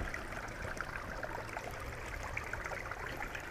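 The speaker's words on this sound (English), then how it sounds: "got a nice little creek here" A small creek along an Appalachian Trail hike trickles and burbles steadily, a soft, continuous flow of water heard close by with no voices.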